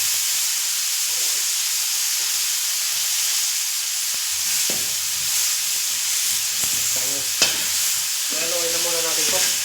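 Onion and tomato sauté in a pan, a continuous loud hiss and sizzle with occasional utensil clinks and stirring scrapes, close up and without speech.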